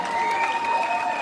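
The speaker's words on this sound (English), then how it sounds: "Cotilda, guys, don't stop clapping" Audience applause at a comedy show, steady and continuous throughout, with crowd noise and a voice over it.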